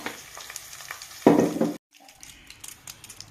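Hot tempering oil is poured into an Indian gooseberry (amla) pickle, a brief loud sizzle bursting out mid-clip and cutting off abruptly, surrounded by faint clinks of utensils and quiet kitchen noise.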